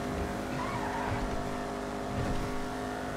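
Car engine roaring at speed in GTA 5 Online with a brief skidding tire squeal as it brakes, loud and continuous against the steady game engine drone.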